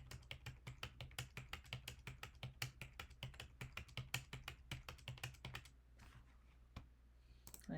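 Rapid, steady keystrokes on a computer keyboard, close and fairly quiet, run for about six seconds in a dense rhythm, then stop, leaving a few scattered taps.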